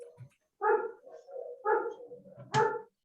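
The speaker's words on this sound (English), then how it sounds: "my dog keeps barking" A pet dog barks three times in quick succession, close and clear, with soft whimpery yips between the barks and no talking.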